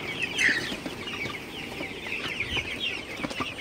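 Golden super hybrid chickens on a poultry farm at night, a flock clucking and murmuring continuously at moderate distance, with a few louder squawks standing out.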